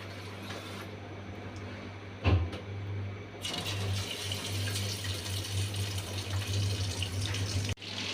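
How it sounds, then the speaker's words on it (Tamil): Mackerel dropped into hot oil to fry, with a short splash and then a steady, dense, hissing sizzle that continues evenly and fairly quietly, with no voices. "இப்போ நம்ம வறுக்கிறதுக்கு மீன் எடுத்து போட்டுடலாம்."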